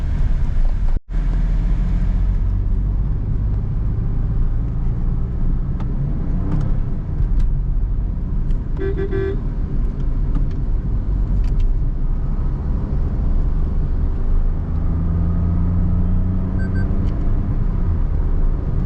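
A 2025 Toyota Taisor with a 3-cylinder turbo engine driving through the city, its cabin filled with a steady low engine and road rumble and a few brief clicks, with no talk.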